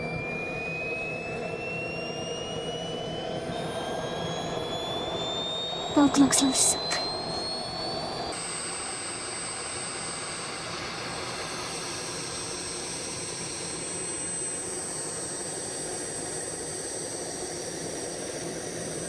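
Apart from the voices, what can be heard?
RC jet car engine spooling up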